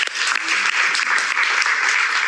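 A crowd claps steadily for a couple of seconds, a dense, loud wash of many hands with no pauses and no talking over it.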